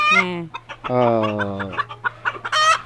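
Hens cluck and squawk close by on a Fayoumi chicken farm in a series of loud, drawn-out calls, over a steady low mechanical hum.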